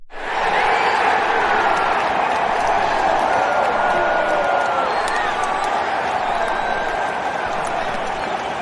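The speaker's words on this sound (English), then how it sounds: "let us give Mr. Bond a big round of applause" Large crowd at a Quidditch match roaring and cheering with applause mixed in, a loud, sustained wall of voices that stays constant throughout with some whistles.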